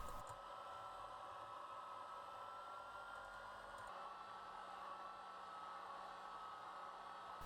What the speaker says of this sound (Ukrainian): Охолоджений крем збити міксером.